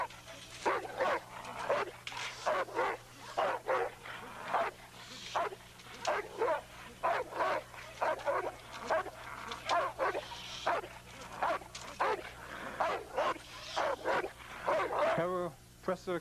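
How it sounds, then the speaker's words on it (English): A Presa Canario, the Canary Islands dog breed, barking and whining in repeated short bursts close by, over a steady low hum, while someone speaks at length over it. "Presa Canario, Perro di Presa Canario, or Canary Dog, comes from the Canary Islands."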